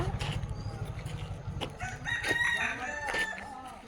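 A rooster crows close by, its call rising over a low rumbling background with faint voices around it.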